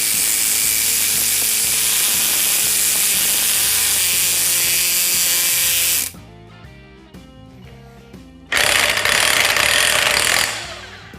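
An Astro Tools exhaust pipe stretcher expanding an exhaust pipe makes a loud, fast, continuous mechanical rattle up close. The rattle stops for about two seconds, then resumes in a second burst and cuts off.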